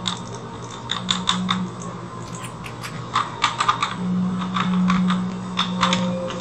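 Rapid clicking of computer keyboard keys during a gaming session, a steady, close patter of presses with brief flurries, heard alone without talk.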